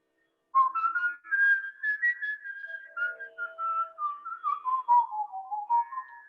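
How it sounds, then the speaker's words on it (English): A person whistles a melodic tune alone, clear sustained notes that glide up and down at a moderate volume, starting after a brief silence. "Like this, I'm always whistling."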